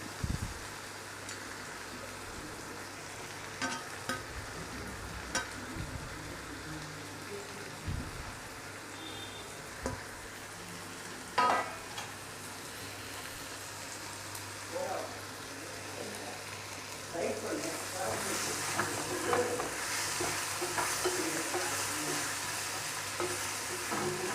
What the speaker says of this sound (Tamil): உப்பு போட்ட உடனே வெங்காயம் நல்லா வதங்கிடும்